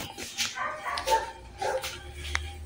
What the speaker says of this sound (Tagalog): Ito na isa kong Pomeranian.